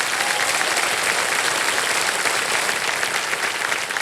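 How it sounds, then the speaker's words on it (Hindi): Studio audience on the KBC quiz show applauding a contestant named Gaurang, a dense, steady wash of clapping that stays loud and even throughout with no voices. "गौरंग जी के लिए एक बार ताली बज जाए।"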